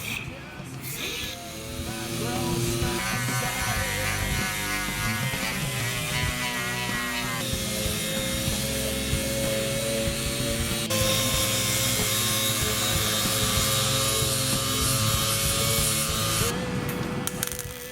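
Plastic being cut during an automotive plastic repair at a skills competition, heard as a loud, continuous buzzing cut with a rough sawing texture that runs almost unbroken, amid background chatter.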